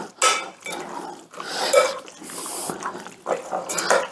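A spoon works through a pineapple casserole mixture in a bowl, giving close, wet scraping and clinking strokes in uneven bursts that pause briefly between passes.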